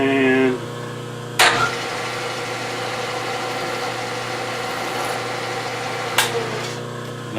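A lathe motor runs after start-up with a steady, even mechanical hum close by, broken by two sharp knocks or clicks partway through.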